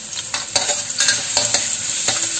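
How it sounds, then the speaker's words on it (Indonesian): Ginger and garlic stir-fried in hot oil, a loud, steady close sizzle broken by regular scraping strokes of a spatula, with no voices. "Sekarang kita tumis dulu jahe dan bawang putihnya."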